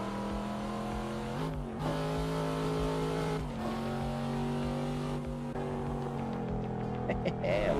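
A simulated car engine in the Shuto Expressway driving game hums steadily with rising and falling revs and a few shifts, fairly loud and constant throughout.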